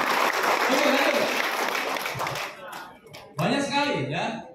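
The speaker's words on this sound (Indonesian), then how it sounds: "Tepuk tangan aja maksimal ya." Seminar audience at a marketing plan event in a Jakarta hotel ballroom bursts into loud, dense applause that fades out, followed by someone speaking over a microphone.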